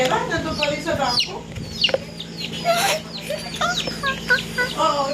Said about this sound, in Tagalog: I'm a mother with 3 chickens.